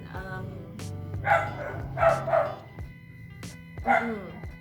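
A dog barks several times in short, separated bursts, moderately close, with quiet pauses between barks.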